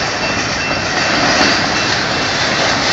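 A car hauler freight train rolls past close by as a loud, steady broadband roar of wheels and cars on rails, with no talk.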